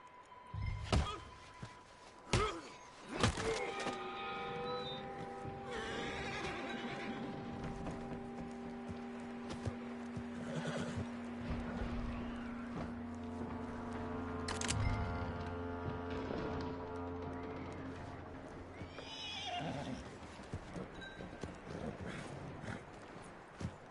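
In a Red Dead Redemption 2 gameplay scene, a few sharp thumps and clops of horse hooves ring out early, followed by a long, faint wash of tonal ambience with scattered knocks and no clear speech.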